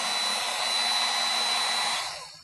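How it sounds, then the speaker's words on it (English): A heat gun set to around 450–550 degrees heats a dent in aluminum body panel during dent pulling, a loud steady blowing whoosh that holds then tapers off near the end. "So the heat gun, we're going to go to 450, 550 degrees. We're going to heat up the dent while we're pulling."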